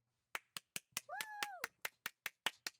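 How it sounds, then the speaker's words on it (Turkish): A streamer plays an applause sound effect: evenly spaced, crisp claps in a quick, steady rhythm, with a rising and falling whistle-like tone in the middle, fairly quiet overall. "Nerede alkış efektim?"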